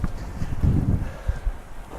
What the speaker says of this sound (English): So it's very, very windy at the moment.